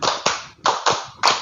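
Group hand clapping at an elementary school assembly, five crisp claps in uneven rhythm, near and distinct, with no voices over them.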